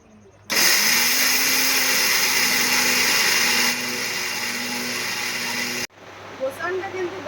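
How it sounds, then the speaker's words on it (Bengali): An electric kitchen mixer grinds rice with a loud, steady motor whine that starts abruptly, drops slightly in pitch partway through, then cuts off before a few quieter clatters. "মিক্সারে অল্প অল্প করে দিচ্ছি তো অনেকক্ষণ লাগছে"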